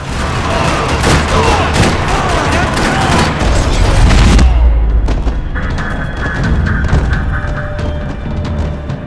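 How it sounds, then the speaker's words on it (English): Loud bursts of rapid gunfire and booms crackle over a dense, noisy backdrop in a parking-lot shootout in the video game Max Payne 3, then drop to scattered distant shots and a lingering hum. "Another parking lot rattling with gunfire."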